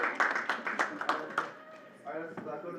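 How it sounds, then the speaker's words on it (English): A short burst of scattered hand claps from a few people, mixed with talking, fading out as a voice continues alone. "How about a round of applause?"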